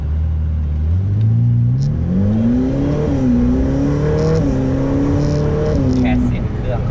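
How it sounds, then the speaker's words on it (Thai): Ferrari F8 Tributo engine accelerating hard in race mode, a loud, close revving roar that climbs steadily in pitch through several gears with brief dips at each shift, continuous across the whole stretch. "แค่เสียงเครื่องก็แตกต่างแล้วครับ"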